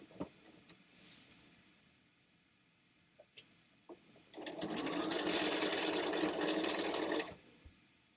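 Sewing machine stitching quilt fabric while chain piecing, heard as a few soft clicks and handling sounds, then a loud, steady close-up whir of stitching that lasts about three seconds before stopping.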